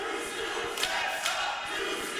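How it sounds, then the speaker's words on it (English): A large indoor wrestling crowd roars and cheers continuously during a match, a dense wash of voices with a couple of louder swells, heard from within the audience. "Listen to this crowd."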